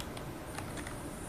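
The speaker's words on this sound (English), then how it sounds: "So you just need to type here last name" Faint, quick keystrokes on a computer keyboard, a handful of soft clicks in an uneven rhythm over a steady background hiss.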